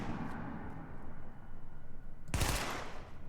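SMG gunfire in The Division, a single sharp burst of a few rounds near the end after a stretch of quieter game ambience, loud and close with no talking.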